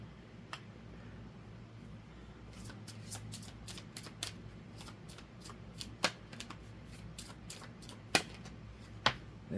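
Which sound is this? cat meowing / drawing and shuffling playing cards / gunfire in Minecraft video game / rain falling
drawing and shuffling playing cards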